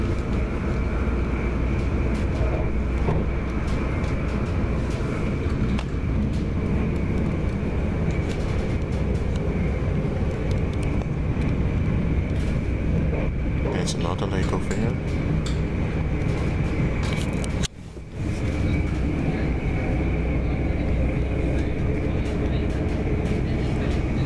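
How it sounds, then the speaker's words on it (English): Continuous rumble of a passenger train heading to Schiphol between The Hague and Amsterdam, heard from inside the carriage, steady and loud throughout with a brief dip near the end; faint voices mix in. "This train is going to Schiphol."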